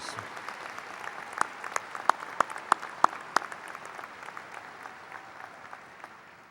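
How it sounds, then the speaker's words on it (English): A high school graduation audience applauds dedicated teachers, a scattered round of claps with a few sharp, close individual claps standing out before it thins and fades. "Please join me in a round of applause for these dedicated teachers."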